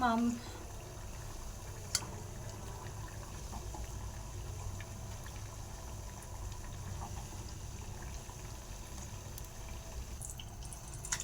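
Raw-banana bajji fritters fry in hot oil with a constant low sizzle and bubbling. A spoon turning them gives an occasional sharp tap against the pan.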